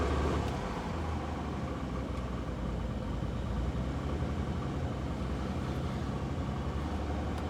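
A van that has sat unused for three weeks runs steadily with a constant, close engine hum that holds the same level throughout, with no clear start or change in pitch.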